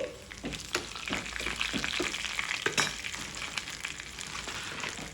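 Mustard seeds, cumin and torn dried red chillies fry in hot oil, giving a steady close sizzle with scattered crackles and light stirring clinks throughout.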